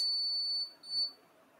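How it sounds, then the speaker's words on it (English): A steady, piercing electronic tone sounds from a buzzer wired to an Arduino IR sensor circuit. It dips out briefly midway and returns for a moment before stopping, close and clear with no talking. "So I think you are hearing the buzzer sound."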